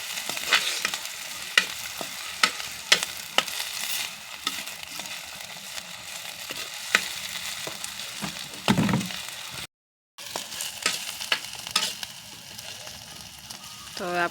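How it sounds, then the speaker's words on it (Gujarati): Green onion fries in a pan for Manchurian over a clay stove, with continuous sizzling and repeated sharp stirring clicks, plus one louder burst of frying before a brief dropout. "હવે આપણે લીલી ડુંગળીનો આગલા ભાગને નાખી દઈશું."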